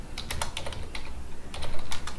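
Keys on a computer keyboard tapped in short, uneven bursts while a building schedule is entered in design software, close and fairly loud with brief pauses between runs of keystrokes and no talk.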